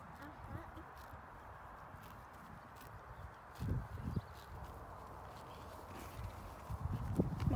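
Horse hooves clip-clop at a walking pace outdoors, a few louder thuds standing out against low rustle and background noise, with people talking nearby.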